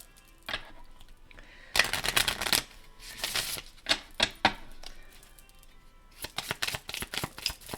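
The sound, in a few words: shuffling oracle cards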